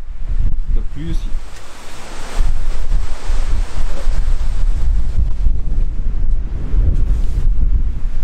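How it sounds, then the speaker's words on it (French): Heavy wind roars across the Norwegian coast in cold rain, a loud, steady broadband rush battering the microphone and swelling stronger after a couple of seconds, with brief speech early on. "Il y a énormément de vent,"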